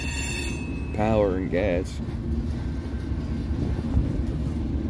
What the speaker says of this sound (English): here comes the rear of the Mega Coal Drag